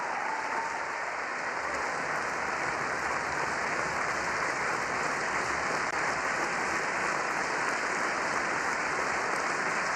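Sustained, dense applause from a large audience during a speech to Congress, a loud unbroken roar of clapping that holds steady throughout.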